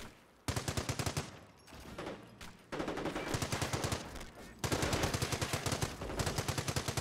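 Rapid machine gun bursts in Company of Heroes 1 during a multiplayer match, loud repeated rattling volleys broken by short pauses, with other battlefield noise between them.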